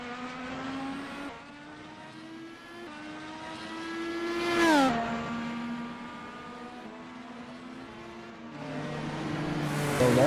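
A sim racing car in an iFRL race at Circuit Gilles Villeneuve drives down pit road with a steady engine drone, pitch stepping up through gears and briefly swelling as it accelerates, then dropping and rising again.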